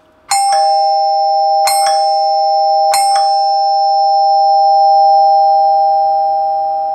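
A NuTone Model L35 two-note clock door chime rings three times at close range, each bright metallic strike followed by a long, clear tone that keeps ringing and hanging in the quiet room.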